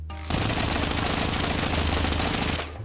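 An MSMC submachine gun in Call of Duty Mobile fires one continuous rapid burst for about two and a half seconds, loud and close, then cuts off abruptly.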